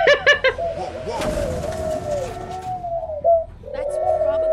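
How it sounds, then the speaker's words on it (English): Pigeons or doves cooing in The Walking Dead point-and-click video game, several soft close coos in sequence with a brief clatter partway through, no talk over them. "I feel like I'm almost talking to birds now."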